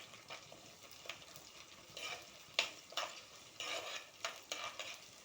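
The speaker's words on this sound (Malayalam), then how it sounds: "ഇനി ഇതെല്ലാം കൂടെ ഒന്ന് നല്ലപോലെ യോജിപ്പിച്ചെടുക്കാം" Green chillies and curry leaves are stirred in a hot pan for a lemon pickle, with a quiet frying sizzle under repeated spatula scrapes and clinks in an uneven rhythm, close up and without talk.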